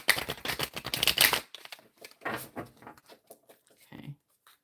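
Tarot cards are shuffled in quick papery riffles for over a second, followed by a few softer card flicks and taps at close range.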